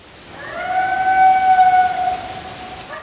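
A coyote in a ravine gives a long, rising, wavering howl, clear tonal and fairly loud over a quiet background, fading off near the end.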